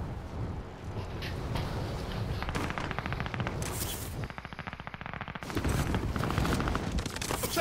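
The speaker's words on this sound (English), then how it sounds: "I'm taking fire! I'm under fire!" Sustained gunfire in Call of Duty: Modern Warfare, with rapid automatic bursts and heavy shots rattling close, a brief lull midway, then renewed firing at full intensity.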